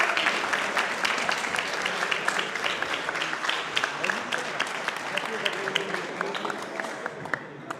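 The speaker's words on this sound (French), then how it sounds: "Un tonnerre d'applaudissements s'il vous plaît." An audience at a Gran Turismo Sport esports awards ceremony claps steadily for several seconds, a dense patter of hands with voices talking underneath, fading toward the end.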